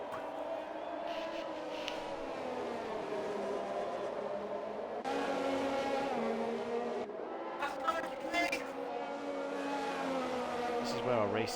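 Race cars circling a Japan track in the RSF1 racing sim during a league race, engines droning steadily with shifting revs throughout, a commentator talking over the motor noise.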